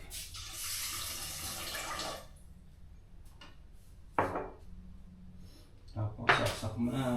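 Water runs from a household tap into a container for about two seconds, a steady hiss that then stops, followed by a few sharp clinks and handling knocks nearby.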